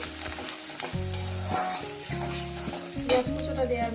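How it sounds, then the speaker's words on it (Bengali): Chopped onions frying in hot oil, a steady close sizzle with repeated stirring strokes and low scraping tones against the pan, ending with a few louder crackles. "তেলটা আমার গরম হয়ে গেছে দিয়ে দেবো এখানে পেঁয়াজ কুচোটা পেঁয়াজ কুচোটাকে দিয়ে দিলাম"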